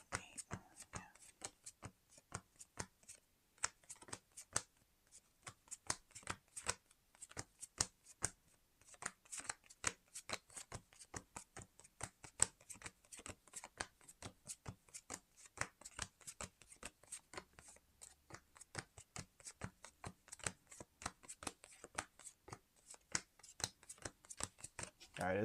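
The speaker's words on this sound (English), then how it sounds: "we'll just give it a shuffle" A deck of Star Wars Unlimited cards shuffled repeatedly up close, with quick riffling bursts and crisp card snaps in an irregular, steady rhythm, fairly quiet, with no talk over it.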